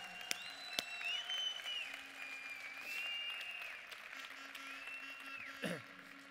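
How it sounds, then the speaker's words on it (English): Audience applause for a research and development team at a presentation, a steady, fairly faint wash of clapping that holds for the whole stretch, with some high tonal sounds running over it. "we need to give Joel, Dr. Fines, and our whole research and development team a round of applause for what they do"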